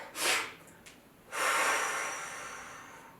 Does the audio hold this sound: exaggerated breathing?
yes